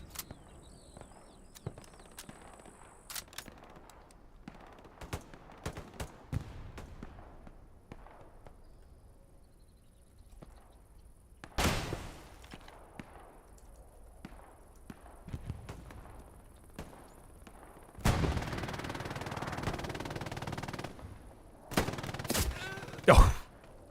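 Long-range rifle fire in the WWII shooter Hell Let Loose, scattered sharp cracks and distant gunfire bursts spread across the stretch, with a few louder, denser volleys near the end and quiet gaps between.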